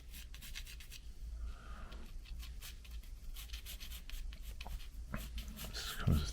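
Pencil sketching on paper for a watercolor bird painting: soft, close scratchy strokes rubbing in quick bursts, with quiet talking mixed in.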